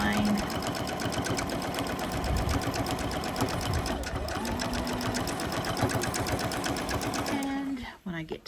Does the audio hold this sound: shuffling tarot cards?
no